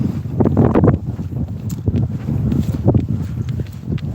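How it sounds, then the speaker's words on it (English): Strong wind buffets the microphone outdoors on a morning walk, a loud, continuous low roar with gusty surges and faint rustling throughout. "Pardon me for the wind."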